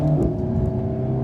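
An Alpine sports car accelerates to overtake another car, its engine a steady, close droning roar that holds level throughout a brief stretch.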